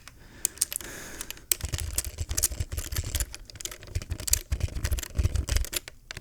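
Rapid, rough-sounding clacking of computer keyboard keys, close and crisp, with bursts of keystrokes and brief pauses, heard alone without speech.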